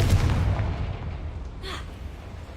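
A Confringo fire spell cast in Hogwarts Legacy bursts with a loud, low booming blast at the start, rumbling on as a fading roar, with a brief bright whoosh near the end.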